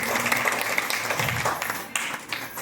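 Audience applause at a religious gathering in Patansawangi welcoming a guest, a loud continuous burst of many hands clapping close by, with some voices mixed in.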